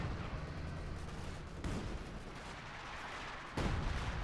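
Howitzer artillery fires a barrage in Company of Heroes 2, heard as faint, distant rumbling booms, two heavier blasts standing out over a low, continuous roar.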